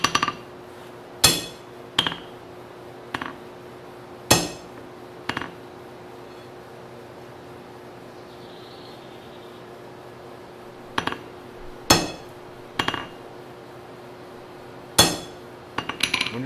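Hammer blows on a steel chisel end being flared out at a blacksmith's forge, sharp ringing metallic strikes arriving in scattered clusters of one to three with quiet pauses between, close and loud over a low steady hum.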